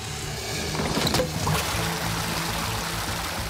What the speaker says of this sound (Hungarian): Ha kiveszünk pár lécet, a víz újra folyni kezd.